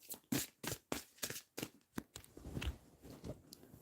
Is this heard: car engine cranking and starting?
no